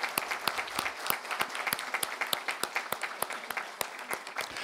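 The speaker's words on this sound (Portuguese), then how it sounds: "Eu queria pedir uma salva de palmas pelo trabalho que tem sido desenvolvido." Audience applause at a council chamber's ordinary session honouring staff, a steady patter of individual claps with sharp distinct hand strikes over several seconds, fairly close and moderately loud with no talk.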